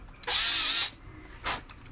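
Short bursts from a power drill, one longer whine lasting over half a second followed by a brief second pulse, fairly close and otherwise quiet between them.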